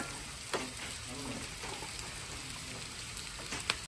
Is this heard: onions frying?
yes